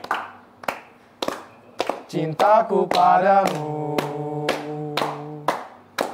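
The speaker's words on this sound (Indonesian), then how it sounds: "Tepuk tangan juga nggak apa-apa." Indonesian national football team supporters clap in a steady beat along to group singing, sharp evenly spaced hand claps standing out over the voices and a sustained tone.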